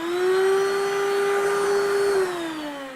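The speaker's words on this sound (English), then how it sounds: "have a nice vacuum cleaner available." Steady whine of a Ridgid vacuum cleaner sucking up foam dust, holding one continuous tone for nearly three seconds before the pitch sags slightly near the end.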